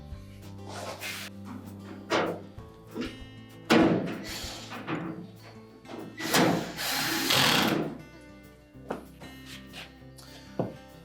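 A power drill drives a single screw back into the support bracket of a GE dryer during a repair, with short whirring bursts separated by pauses, plus clunks and handling noises at close range.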